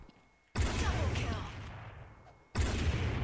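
Two heavy gunshots from a sniper video game, each a sudden loud crack about two seconds apart, followed by a rumbling decay that fades before the next shot.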